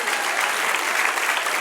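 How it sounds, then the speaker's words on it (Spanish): A church congregation breaks into loud, dense applause, a continuous wash of clapping from many people filling the space, with no talking over it. "Denle un aplauso al Señor."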